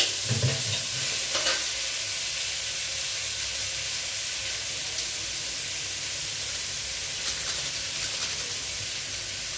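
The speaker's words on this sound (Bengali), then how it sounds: "তো আমি এখন নুডলসটা ঢেলে দিচ্ছি" Boiled noodles poured into a pan with egg set off a steady, hissing sizzle that stays close and even throughout, with a few soft bumps and scrapes near the start.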